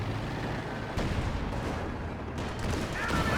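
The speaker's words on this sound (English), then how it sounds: "Sukasufus barrage coming on in." A dense artillery barrage in Company of Heroes 2, continuous low rumbling booms and crackling impacts layered thickly together, loud and unbroken with a couple of sharper hits.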